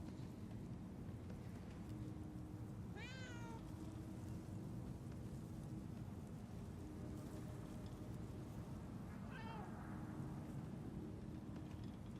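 Two short cat meows sound in the video game Murdered: Soul Suspect, several seconds apart and fairly faint, over a steady rain-like ambient wash with no speech.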